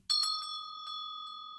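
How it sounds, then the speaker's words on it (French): A small front-door bell rings with a bright, sustained tone after a quick rattled strike or two, then slowly fades, heard alone. "Ah, la sonnette !"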